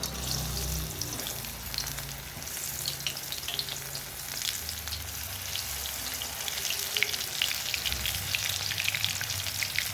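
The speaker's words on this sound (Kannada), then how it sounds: "ಎಣ್ಣೆ ಕಾಯಿ ಕಬಾಬು ಹಾಕು" Mushroom kebabs fry in hot oil in a Mandya-style home kitchen, giving a steady, dense sizzle and crackle that stays close and even for the whole stretch, with no talking.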